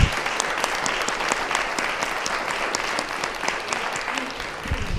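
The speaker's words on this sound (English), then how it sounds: "I would like you to give a huge round of applause for our panelists" Dense applause from a conference audience for a panel of speakers, a steady wash of clapping lasting several seconds, with faint voices underneath near the end.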